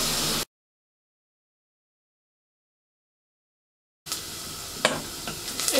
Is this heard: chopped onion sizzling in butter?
yes